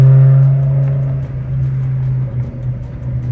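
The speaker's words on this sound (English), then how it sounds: "on decel, it definitely kind of burbles." A BMW E60 M5 with an upgraded exhaust rumbles loudly and steadily on deceleration, a low droning engine tone with a faint uneven burble running under it, close to the car and with no talk.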